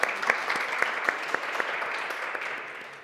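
A studio audience at a hidden-camera show claps in sustained applause, a dense, steady patter of many hands that gradually tapers off.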